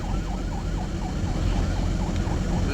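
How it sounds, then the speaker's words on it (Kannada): Ambulance siren wailing in heavy traffic on a city road at a jammed signal, heard from inside a truck cab; a steady, rising-and-falling wail over a continuous low engine and road rumble, loud and sustained throughout. "ಆಂಬುಲೆನ್ಸ್ ಆವಾಗೊಂದು ಸೈರೋ ನಡೀತಾ ಇದೆ."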